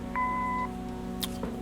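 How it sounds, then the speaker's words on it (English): Answering machine beep in the Kathy Rain video game: a single clean electronic tone held for about half a second, followed by a brief faint click over a low steady hum. "Leave a message after the beep."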